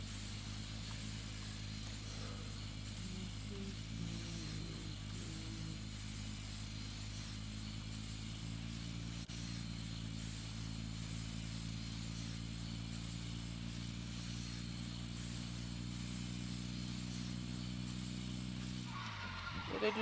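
Vehicle engine droning steadily as it drives in PUBG, a constant mid-pitched motorcycle-like hum held for about twenty seconds before cutting out at the end.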